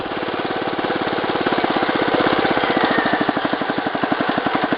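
A Wheel Horse 875 lawn tractor engine pulls under load, a steady loud drone with a rapid, even firing pulse that holds throughout, close up and without voices.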